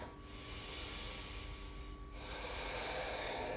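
Breathing while holding a yoga backbend pose, a soft, close exhale and inhale, then a second rush of air, quiet and alone.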